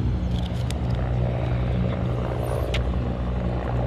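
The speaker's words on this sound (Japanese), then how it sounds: "ちょっとなんかヘリコプター飛んでるわ。" A helicopter flies over a mountain campsite and trail area, its steady low rotor drone and engine roar continuous and fairly distant, filling the background without any talk.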